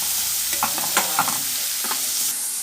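Three sliced onions are stirred and sautéed in hot oil for prawn (eral) thokku. A steady close sizzle runs underneath, broken by several distinct spatula scrapes and clacks against the pan.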